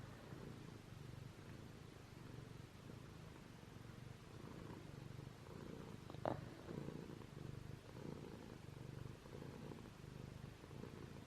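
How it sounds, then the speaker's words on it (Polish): A cat purrs close up in a soft, steady rhythmic rumble that continues throughout, with one brief louder rustle midway and no talking. "Dobry kotek, dobry kotek."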